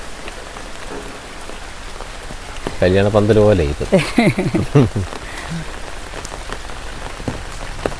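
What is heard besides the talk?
heavy rain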